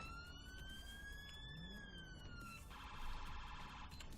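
A police siren in Grand Theft Auto V wails with a rising and falling tone, then switches to a rapid yelping pattern, loud and continuous with engine rumble beneath.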